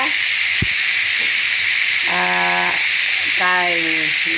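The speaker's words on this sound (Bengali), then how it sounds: "পাঁচফোড়ন আর শুকনো লঙ্কা ফোড়নে পাঁচমিশালি দিয়ে দিয়েছি" Mixed vegetables hit a hot pan of panch phoron and dried red chilli tempering and sizzle loudly and steadily, with a spoon clinking once and someone speaking over the frying.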